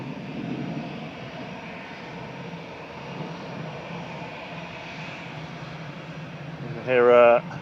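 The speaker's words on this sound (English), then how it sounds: "an Air France 777-300 just going over. Very noisy." A noisy Air France Boeing 777-300 passes overhead at Manchester Airport, a low steady jet rumble and hiss that lingers throughout, with a person speaking briefly near the end.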